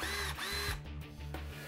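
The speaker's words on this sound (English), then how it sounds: "NASA didn't invent the cordless power drill, but they did help to make it a whole lot better." A Black & Decker cordless power drill runs in short bursts, its motor whining steadily between brief pauses, loud and close with no voices.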